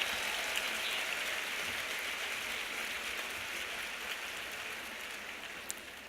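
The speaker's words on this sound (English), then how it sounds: "let's give them all a big round of applause" Steady, dense clapping from a large audience at a women's luncheon continues throughout, even and sustained without pauses.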